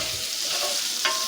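Spring onions sizzle steadily in a chili pot, a continuous bright frying hiss with a short scrape of stirring near the end, close and alone.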